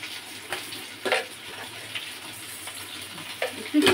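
Okra frying in hot oil with turmeric, salt and a little sugar, a soft, steady sizzle with a few brief louder crackles and scrapes, fairly quiet throughout.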